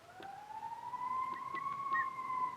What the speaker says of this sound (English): your sirens, I don't know if you can hear that